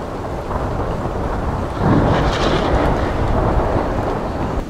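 A thunderstorm made for a Mine-imator lightning animation: steady rain hiss and wind fill the scene, then a deep rolling thunder rumble swells near the middle and lingers loudly to the end.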